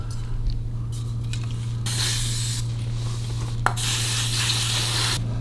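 Harley-Davidson WLA motorcycle parts being cleaned, a steady close hiss of spraying cleaner in bursts with rubbing and scraping over a constant low engine-room hum, no talking.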